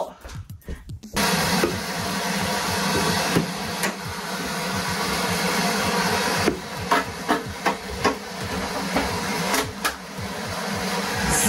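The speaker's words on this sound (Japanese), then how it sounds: "ドライヤーやろ。" A hair dryer blows steadily to melt frost inside a refrigerator during a defrost and cleaning job, a continuous broadband whoosh after a brief start, with occasional knocks and clicks over it.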